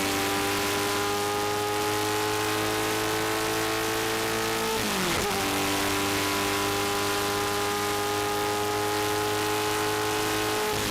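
Vintage race cars in an SVRA Blue-Gray event at Summit Point, West Virginia, roaring away from the green-flag start, a loud sustained multi-engine drone whose pitch sweeps as the pack passes and pulls off into the distance.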